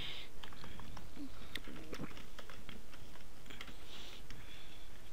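Typing a tile name on a computer keyboard for a Windows 8 custom tile, giving a run of light, irregular key clicks close to the microphone over a steady background hiss, with no talking.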